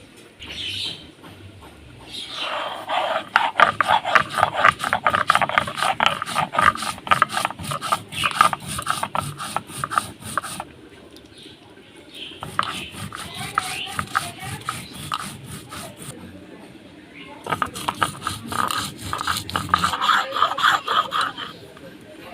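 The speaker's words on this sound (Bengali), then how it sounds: "আলু ভাজা হতে হতে জিরা আর আদা বেটে নেব।" Cumin and ginger being ground into paste on a grinding stone, a repeated rasping rub in long close bursts separated by short pauses.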